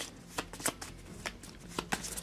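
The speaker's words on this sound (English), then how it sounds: "I'm going to have to shuffle the encounter deck." A deck of cards for the Transformers deck-building board game is shuffled at the table, with several quick riffling bursts in an irregular rhythm, close and fairly quiet, and no one talking.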